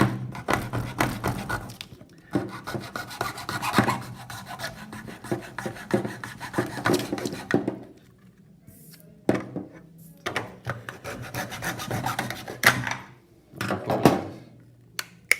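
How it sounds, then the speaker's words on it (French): A hand saw cuts through a workpiece in rhythmic rasping strokes that run steadily up close, pause briefly, then resume in shorter bursts. "Je vais prendre ma scie, je vais venir couper comme ceci."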